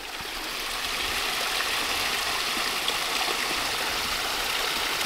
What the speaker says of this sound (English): the bucket is overflowing a lot